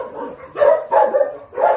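Dogs bark nearby, three loud sharp barks in quick succession within a couple of seconds.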